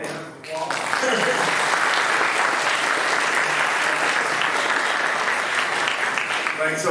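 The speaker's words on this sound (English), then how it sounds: "Let's give Dale a round of applause." An audience breaks into loud, sustained applause that fills the room steadily, following a brief spoken line at the start.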